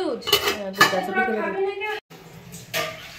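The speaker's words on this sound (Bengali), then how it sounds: "একটা থালা ধুয়ে দেবো" Metal plate being washed at close range, with bright clinks and clatters of dishes against each other, scattered in sharp hits while a person talks over the sound.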